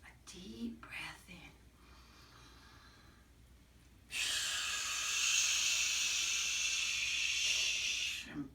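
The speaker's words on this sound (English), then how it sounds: "take a deep breath in." A deep breath drawn in, then a long, loud breathy exhale blown out steadily for several seconds, done as a children's calming exercise, with soft whispery sounds before it.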